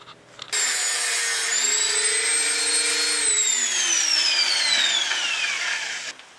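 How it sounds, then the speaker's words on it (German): A high-pitched angle grinder whines steadily through a Porsche 911 SC exhaust pipe for several seconds, loud and close, its pitch sliding slowly downward before it winds off. "mit Schrauben ist da nichts mehr zu machen, da müssen wir mit der Flex dran"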